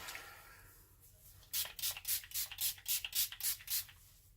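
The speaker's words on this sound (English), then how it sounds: "that's just my rose toner spray" Rapid bursts of a rose toner spray bottle misting, about ten short hissing pumps in quick rhythmic succession, close and fairly loud after a quiet start.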